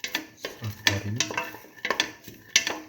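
Split mung bean stew with salt and turmeric being sautéed: a spoon stirs and scrapes against the pot in uneven bursts, with clinks and clatters close by.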